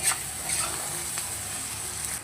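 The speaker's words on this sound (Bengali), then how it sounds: "পেঁয়াজটা একটু হালকা লাল করে ভেজে নেব" Steady high-pitched sizzle of onions frying in a pan, continuous and fairly close, with faint scraping from stirring and no voices.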